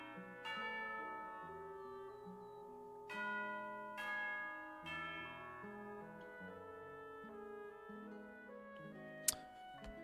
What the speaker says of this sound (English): You hear the sound of a bell.